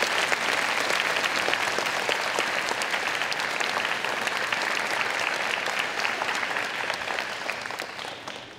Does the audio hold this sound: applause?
yes